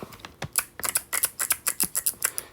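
A daisy-shaped clicker fidget toy gives a quick run of sharp, crisp plastic clicks, roughly a dozen in an uneven rhythm like mechanical keyboard keys, close and fairly loud.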